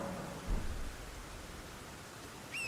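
Rain and thunder in the video game Elden Ring form a faint, steady hiss of rainfall with a low rumble near the start, quiet and continuous with no voices.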